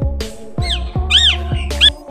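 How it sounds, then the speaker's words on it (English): A parrot gives a run of harsh, rising squawks, four or five loud, close calls in quick succession with no other sound. "The parrot."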